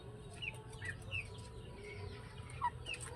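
Chickens cluck softly in the distance over a low background hum, with a few brief higher calls scattered throughout; no one speaks.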